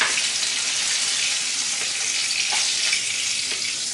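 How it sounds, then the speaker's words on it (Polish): Chopped onion and garlic frying in a large spoonful of pork fat after pork neck steaks were browned, a steady close hiss of sizzling with faint crackles and stirring scrapes throughout, no talk. "na tłuszczu, tam była łyżka tłuszczu, taka duża łyżka tłuszczu, podsmażam cebulę z czosnkiem"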